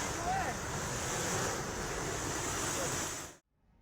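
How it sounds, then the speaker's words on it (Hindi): Water gushes out of the ground from a borewell in Rajasthan, flooding the area around it, a loud continuous roaring rush with heavy wind-like noise that cuts off abruptly at the end. "कितनी तेजी से विकराल तरीके से जमीन के भीतर से पानी निकलता जा रहा है"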